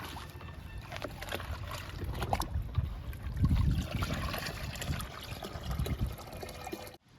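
Kitchen waste liquid is poured from a container onto garden plants outdoors. A continuous close trickle and splash of liquid on soil and leaves swells in the middle and then stops abruptly.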